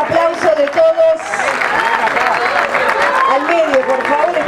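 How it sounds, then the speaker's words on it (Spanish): An audience at a tribute ceremony breaks into sustained applause, a continuous wash of clapping under a voice speaking over the crowd. "Fuerte el aplauso de todos."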